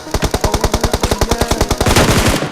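A rapid burst of automatic gunfire in PUBG, about twenty evenly spaced shots cracking loud and close before ending in a brief echoing tail.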